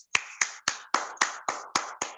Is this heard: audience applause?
yes